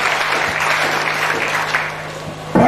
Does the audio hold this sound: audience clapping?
yes